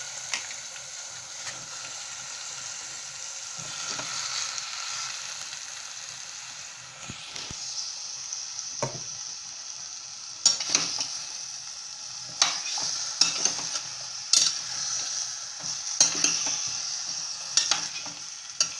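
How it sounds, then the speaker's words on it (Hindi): Eggplant sizzles in a hot pan while a spoon scrapes and stirs, with sharp clanks at intervals over the steady frying hiss, cooking with potato and tomato. "अब इसमें ये हम बैंगन डालते हैं।"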